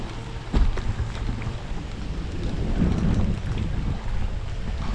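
Steady wind roars and buffets the microphone outdoors on a small fishing boat on a small lake among fields, a continuous low rumble with gusty swells and a faint engine-like drone underneath.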